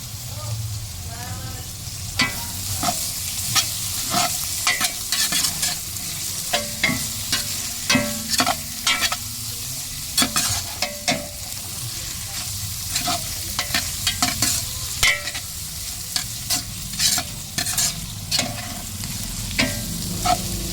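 Chicken fries in a pan with rice under a continuous hiss, punctuated by frequent rhythmic scrapes and clacks from stirring, heard up close with no voices.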